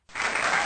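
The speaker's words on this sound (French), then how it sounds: "vous pouvez m'applaudir." A short burst of applause from a crowd, clapping rising quickly and holding steady and fairly loud for under a second.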